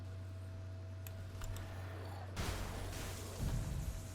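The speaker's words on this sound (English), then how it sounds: "Now we should have Falcons exploding from us." Falcons bursting apart as an explosive skill in Grim Dawn, heard as a couple of broadband bursts over a steady low hum, moderately loud, with no talk.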